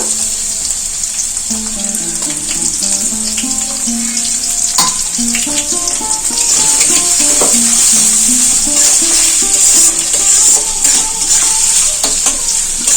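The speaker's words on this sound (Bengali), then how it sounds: "এই পেঁয়াজগুলো একটু হালকা করে ভেজে নেব" Onions frying lightly in oil with whole spices for pulao give a loud, continuous hissing sizzle, with stirring scrapes and a melodic background tune underneath.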